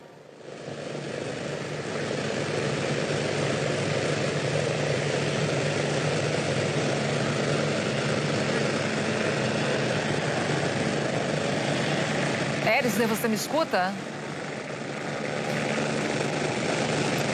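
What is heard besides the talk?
helicopter flying overhead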